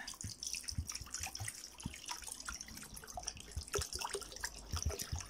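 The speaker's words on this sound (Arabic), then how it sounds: "غادي نضيف لهم الماء" Water is poured onto a small pile of leaves, giving a steady close splashing and pattering with dripping for the whole stretch and no voices.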